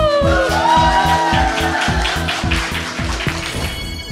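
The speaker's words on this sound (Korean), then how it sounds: "박수!" Loud, dense applause and cheering from a studio audience at the start of a Seoul city public radio broadcast, with rhythmic clapping and music running under it.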